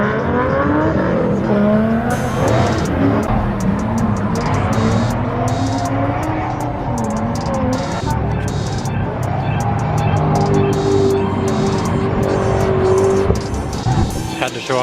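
A drift car runs hard on a track at Drift Indy's opening day, its loud, continuous engine roar close by, with tires squealing in long, wavering tones.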